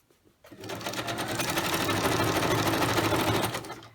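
Sewing machine stitching straight across a paper Christmas journal insert, a steady loud whirring run that starts after a half-second pause and holds for about three seconds before stopping.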